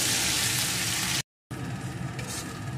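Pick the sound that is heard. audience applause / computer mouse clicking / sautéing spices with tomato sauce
sautéing spices with tomato sauce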